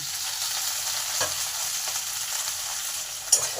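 Sliced okra (bhindi) frying in a lightly oiled pan, a steady close sizzle with a faint knock near the end and no speech.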